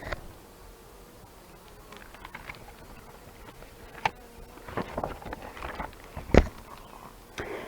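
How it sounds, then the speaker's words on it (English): Bees buzz in bushes, a faint, wavering insect drone over quiet background noise with a few scattered taps and knocks. "They buzz in the bushes and buzz in your ear."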